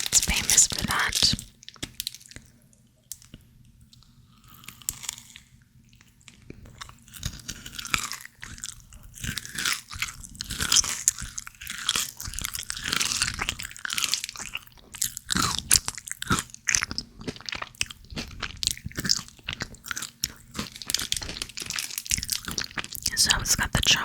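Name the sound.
chewing a British chocolate bar with nougat and caramel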